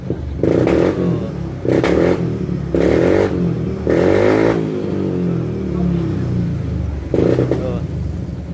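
A Honda Beat ESP scooter engine with an ignition fault revs in repeated short bursts that stutter and misfire, loud and close, with someone talking between the throttle blips.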